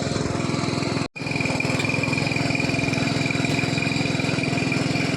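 Small farm tiller engine chugging at low speed while ploughing a field, a steady close putter with one brief dropout, no talk.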